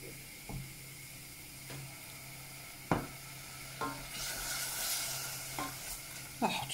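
Turkey pie filling sizzling in a pan while a spatula stirs and scrapes it, a steady frying hiss broken by several sharp scraping knocks, close and moderately loud, with no talking.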